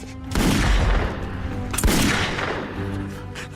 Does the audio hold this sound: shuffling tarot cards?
no